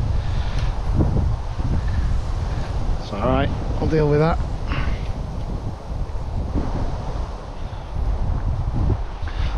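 Steady wind at a lake buffets the microphone in a continuous rough rumble while someone speaks briefly over it.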